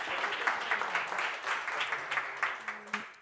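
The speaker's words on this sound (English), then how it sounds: "Oh, if we can give Moises another round of applause." Steady applause from an audience fills the whole stretch, the claps dense and even, with a few sharper claps standing out near the end.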